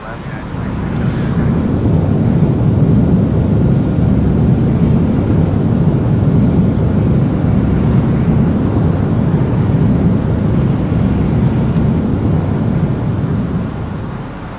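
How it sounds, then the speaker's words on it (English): A British Airways Boeing 777-300ER arriving from London Heathrow touches down on runway 25 left, a loud, steady, broadband jet roar that swells in, holds for over ten seconds and eases off at the end. "British Airways Flight 283 touching down on 25 left, 777-300ER coming in from London Heathrow"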